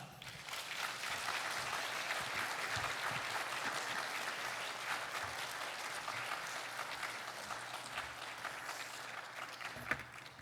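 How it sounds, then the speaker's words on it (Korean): A church congregation applauds to welcome a pastor at a Friday worship service, steady dense clapping filling the room for the full stretch with only a faint murmur beneath. "우리 힘찬 박수로 맞이하겠습니다"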